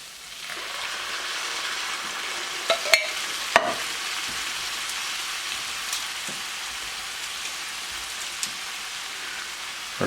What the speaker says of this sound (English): Let's add our can of tomatoes.